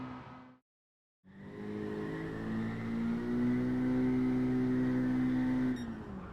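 An Abarth 595 engine driving in Gran Turismo 7, a steady loud drone that begins after a short gap and climbs slowly in pitch as it revs up in one held gear, with no talk.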